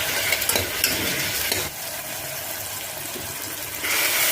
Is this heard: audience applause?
no